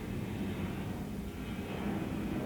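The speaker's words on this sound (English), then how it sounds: "There's a plane." A fixed-wing airplane passes high overhead, a steady low broadband engine rumble and roar holding even and constant throughout without breaks or voices.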